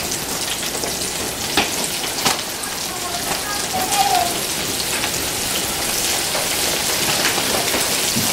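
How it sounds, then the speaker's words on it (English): Shrimp deep-fry in grease heated to 375 degrees, producing a steady, dense crackling sizzle like heavy rain with a few sharper pops, heard close and continuous. "Now we're going to put it in our grease. 375. We're going to fry them."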